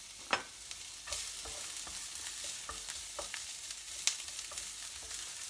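Diced onion sweating in a cast iron skillet, a low continuous sizzle broken by occasional sharp clicks and scrapes of stirring, close up with no voices.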